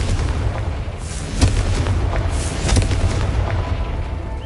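Confringo explosion spell from Hogwarts Legacy, a dense sustained roar of booming blasts with a few sharper bursts rising out of a loud rumbling wash.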